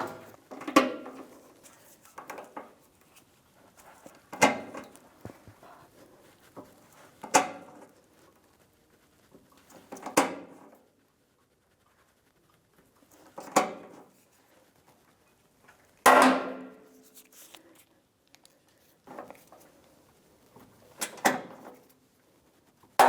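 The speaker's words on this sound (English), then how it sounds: "I'm going to get the rivet gun, and I'm going to install the new air dam all the way around" A rivet gun sets 1/4-inch rivets on the air dam of a 1992-1996 Ford F-150, producing about nine sharp, close snaps spaced a few seconds apart in a quiet garage.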